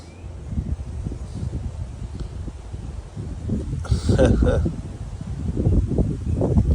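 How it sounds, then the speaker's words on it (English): Wind gusting outdoors in England in May, a steady low rumbling buffet across the microphone that swells and eases throughout, with no one talking. "Oh, the wind's not helping."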